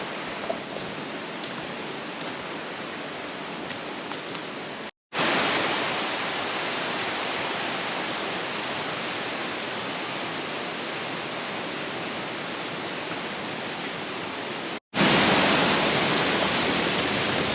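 A creek rushing through a humid Ozark forest, a dense, steady broadband wash of flowing water held close and loud for the whole stretch, broken by two brief dropouts.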